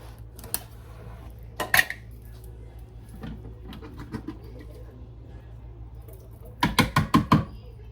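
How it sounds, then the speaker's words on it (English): A pop-top can of black beans is pulled open in a quiet kitchen: a few sharp metallic clicks early on, then a quick burst of clattering tab and lid snaps near the end. "Black beans. Here they go. Pop top."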